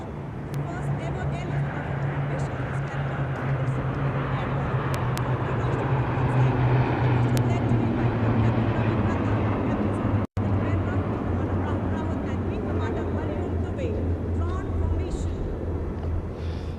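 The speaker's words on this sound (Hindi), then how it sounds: "इसमें आगे एक C-17 और पीछे 2 C-130 400 मीटर की ऊंचाई पर राजपथ के उत्तर में वाटर चैनल के ऊपर से निकल रहे हैं" A C-17 leading two C-130 military transport aircraft passes overhead at about 400 metres above the Republic Day parade on Rajpath, New Delhi, a steady low engine drone lasting throughout beneath continuous commentary.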